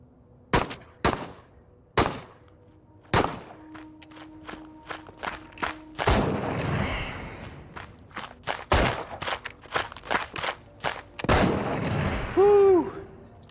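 Pistol gunshots in the video game Into the Radius, a series of sharp, loud reports spaced irregularly over several seconds, with busier bursts of firing and impacts between them and a brief whine near the end.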